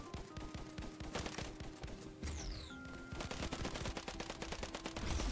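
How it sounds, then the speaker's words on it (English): Rapid automatic gunfire from the online shooter game ev.io, with fast repeating bursts of shots that keep going almost the whole time at a fairly low level, plus a brief whooshing effect midway. "I shot that player so many times, I better get the kill"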